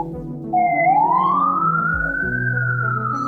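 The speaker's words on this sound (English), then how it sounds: "And then sirens, yeah." A siren sound effect plays during a live tabletop Dungeons & Dragons session, a single rising and falling wail lasting a few seconds, loud and close over quiet background tones.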